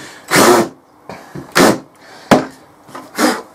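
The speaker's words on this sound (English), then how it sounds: "So I've got a countersink bit in my little drill." A small power drill with a countersink bit whirs in several short bursts while countersinking a screw hole, each a second or so long, close up and loud with brief pauses between.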